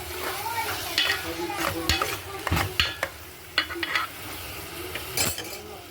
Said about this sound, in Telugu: ఇప్పుడు ఈ చేప ముక్కలు వేసుకుందాం ఒకసారి తిప్పుకుందాం